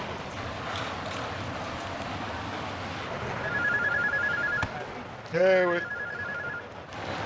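A special prison telephone gives off a thin, steady electronic ring in two faint bursts over a noisy, hissing background, with a person's short spoken exclamation between them.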